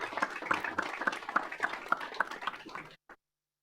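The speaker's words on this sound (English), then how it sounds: "I would like to, at this time, for us to applaud Mary Kay for her years of service." A small group claps at a public meeting of the Michigan Gaming Control Board, a faint, fairly close patter of hands in a loose rhythm that stops abruptly after about three seconds, with one last clap.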